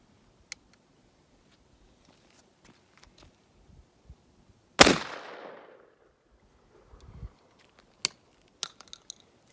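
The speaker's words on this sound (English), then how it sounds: "So I'm just gonna shoot out there, 1 shot each for Georgia Boy" A single sharp blast from an Ithaca Model 37 shotgun with a fixed-choke barrel, fired outdoors, with a loud crack and a long fading tail, followed by a few faint clicks and handling knocks.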